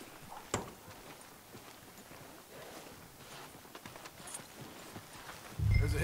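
Horse hooves clip-clop at an even walking pace in Red Dead Redemption 2, a string of soft, regular knocks with one louder thump early on and a low rumble rising at the very end.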